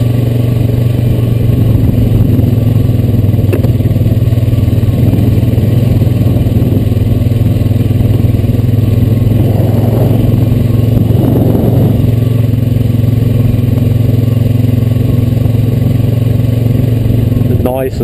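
A Honda Rancher 420AT ATV engine runs steadily along a land trail, a continuous loud mid-range drone close by with slight rises in revs.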